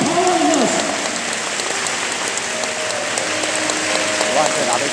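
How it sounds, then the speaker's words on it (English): An audience at a 2018 Jeremy Lin event in Hong Kong claps continuously and densely, a dense, unbroken wash of applause lasting the whole stretch with faint voices mixed in. "Give a clap to our Jamie Lim, encourage him."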